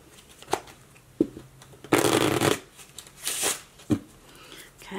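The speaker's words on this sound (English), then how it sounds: "let me shuffle it again." A deck of playing cards is shuffled in a few separate bursts, with one longer riffle in the middle and sharp snaps and taps before and after, close and fairly loud with no talking.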